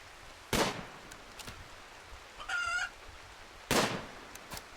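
A chicken in the video game RimWorld gives a short warbling cluck between loud sharp bursts, probably gunshots, with no talking.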